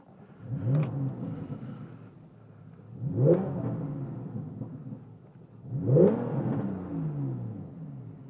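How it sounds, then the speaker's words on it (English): A Porsche 911 GTS with the standard sports exhaust starts up, then gives three throaty revs that swell and fade at even intervals. The car is heard up close, with no voices. "You also get a sports exhaust as standard, and you'll hear it now when I start the car up."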